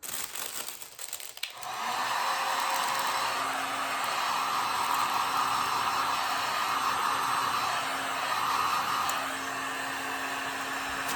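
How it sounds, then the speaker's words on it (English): A heat gun's steady, loud blowing roar runs continuously after a short quieter start, with no talking over it. "Sorry about the heat gun noise."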